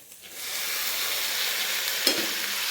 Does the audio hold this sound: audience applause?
no